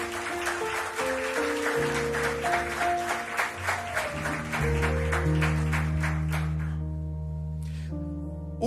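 Congregation applauding during a church service in Lisbon, rapid clapping over sustained organ or keyboard chords, the clapping fading out near the end while the music continues alone.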